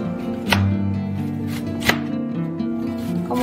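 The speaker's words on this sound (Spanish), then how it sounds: "la cebolla a mí me gusta así en corte juliana, pero pueden hacerlo en rodajas" A knife cuts an onion into julienne strips on a board, a few sharp chops spaced about a second apart over a continuous kitchen background, close and moderately loud.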